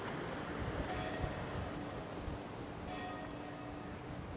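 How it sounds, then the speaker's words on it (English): Church bells ringing over a fishing port at Camara de Lobos at sunset, heard as faint tolls at moderate distance within steady wind and sea-like background noise, with no talk. "Oh, we can get the bells now."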